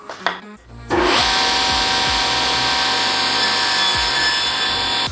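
Power saw cutting through wood set at a 30-degree angle: a short tap, then the motor spins up near one second into a loud, steady whine and cut that holds to the end.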